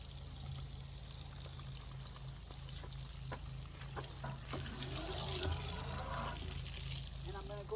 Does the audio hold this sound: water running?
yes